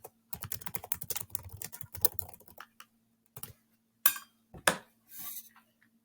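Fast typing on a computer keyboard runs for about two and a half seconds with a burst of rapid close clicks, then pauses before a few louder isolated key strikes and a final short run, with a faint steady hum underneath.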